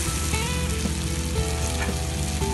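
Tomatoes seasoned with half a tablespoon of salt fry in a pan for chicken tikka masala, giving a steady, close, dense sizzle that carries on without pause and without any voices.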